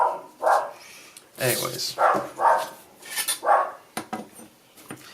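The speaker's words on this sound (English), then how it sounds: "that is my dog barking in the background." A dog barks in the background, several sharp separate barks spaced irregularly, under someone speaking close to the microphone.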